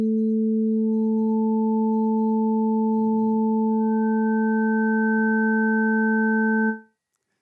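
Sustained synthesizer sine-like tones in Ableton stack up one after another into a steady, pure chord that holds, then cuts off abruptly, with faint low rumbles underneath.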